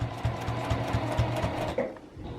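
A sewing machine stitches along a seam line on a quilted patchwork mini tote bag, its needle chattering in a fast steady rhythm that stops near the end, close and clear.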